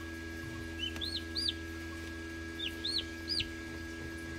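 Newly hatched turkey chicks peep in quick, rising chirps, in two little clusters of three or four calls, fairly faint over a steady background hum.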